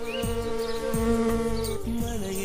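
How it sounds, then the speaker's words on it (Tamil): A small bee flies fast between flowers, wings beating in a steady, close, droning buzz whose pitch wavers and dips every second or so, continuous and without voices. "ஒரு சிறிய தேனீ தனது சிறகுகளை வேகமாக அசைத்து மலர்களுக்கு இடையில் பறக்கிறது"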